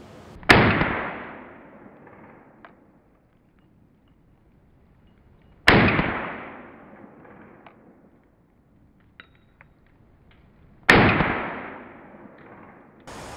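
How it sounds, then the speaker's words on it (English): Three single handgun shots fired on a range during grip practice, each one a sharp, loud crack with a quick decaying echo, spaced about five seconds apart with quiet between them. "we fire some more rounds, notice what happens"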